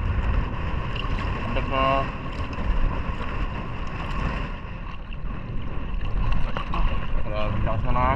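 Strong wind buffets a small fishing boat, a steady rushing gust noise over rumbling water and hull sounds, with brief talk from people aboard.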